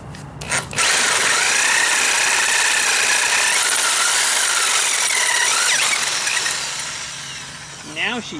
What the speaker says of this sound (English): Well, I can drill it bigger.